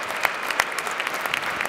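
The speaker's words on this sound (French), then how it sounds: "Les gens qui les applaudissent." Spectators clap for the players after a padel tournament final in Nantes, a brisk burst of crowd applause with a few sharper individual claps standing out.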